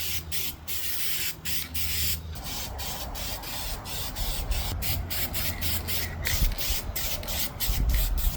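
Spray paint hisses onto truck wheels in short, repeated bursts with brief breaks between them, close to the microphone and with no talk.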